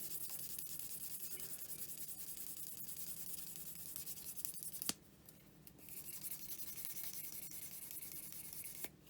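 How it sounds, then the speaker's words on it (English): A metal pendant being gently sanded and buffed by hand, a soft steady scratchy rubbing close by that stops briefly midway, then resumes, with no talk. "Just check for rough edges and just give it a bit of a gentle sand and a gentle polish."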